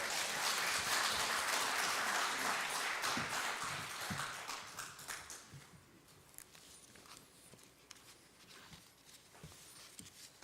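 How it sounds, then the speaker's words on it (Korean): Church congregation clapping in welcome as the pastor comes forward at a Korean Methodist men's mission worship service, a broad wash of applause that is strongest at first, then thins and fades into scattered claps. "목사님 나오실 때 오른손 들고 할렐루야 하고 박수로 환영하시겠습니다"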